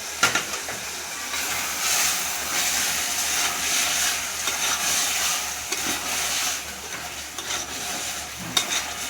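Onion, garlic and tomato cook in a pan for tuvar totha, giving a steady close sizzle and hiss with occasional stirring scrapes, continuous throughout with no talking.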